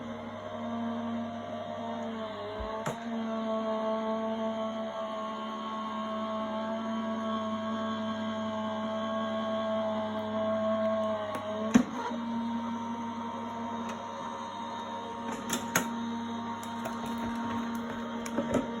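A die cutting machine runs an 8x8 die through its rollers, giving a steady mechanical hum and drone at moderate level, with a few short clicks and knocks as the plates move.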